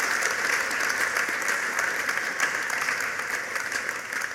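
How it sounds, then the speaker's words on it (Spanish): A church conference congregation clapping their hands for Jesus, dense continuous applause from many people at an even level, filling the room without talk. "Can we a just esto? clap our hands for Jesus tonight"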